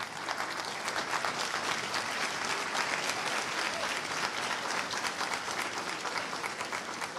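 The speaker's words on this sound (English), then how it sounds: "if they could just stand so we can give them a round of applause" A conference audience applauds to welcome visiting delegates standing in the hall at a world congress in Jamaica, a steady, dense wash of many hands clapping at moderate distance, sustained evenly throughout without speech.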